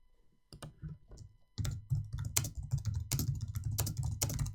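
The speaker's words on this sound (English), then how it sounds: "Typing with Regget." Someone types on a computer keyboard up close, a few sparse taps at first and then a fast, continuous run of clicky keystrokes with a low thock on each press.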